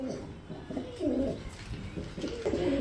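A pair of English Barb Homa pigeons cooing nearby, their soft, low, throaty calls repeating in short rolling bursts with no one talking.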